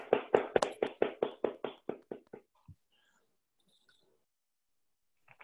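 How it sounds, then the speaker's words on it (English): Applause after an academic talk comes as a short run of about a dozen crisp hand claps, close and even at first, then slowing and fading out within a few seconds into near silence. "Let's wait for the applause to"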